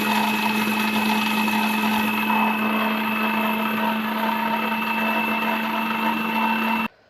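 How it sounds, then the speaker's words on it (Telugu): A mixie grinder whirs loudly as it grinds roasted coriander seeds and cumin, a steady high-pitched motor hum that holds for several seconds before cutting off abruptly. "సో ఇప్పుడు మిక్సీ పట్టుకోవాలి."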